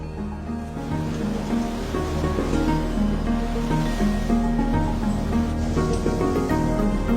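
Ocean waves roll in on the Devon coast of England, a steady, full roar of surf with wind, continuous and fairly loud, with no talk.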